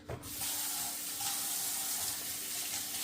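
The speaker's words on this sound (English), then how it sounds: "we're going to rinse this in cold water." Cold tap water runs steadily from a faucet over giant calamari rings being rinsed in a sink, a continuous close splashing hiss from start to finish with no talking.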